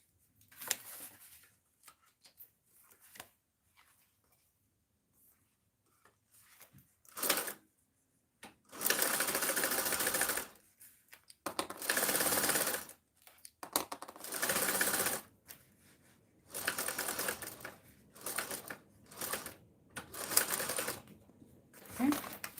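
A sewing machine basting the side seams of a handmade bag runs in several short, loud bursts of rapid stitching, separated by pauses and quieter handling noises.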